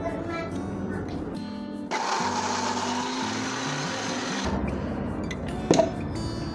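Kitchen blender grinds turmeric, candlenut, a little coriander and large red chilies with a splash of water, a steady loud whirring roar for about two and a half seconds, framed by quieter kitchen clatter before and after.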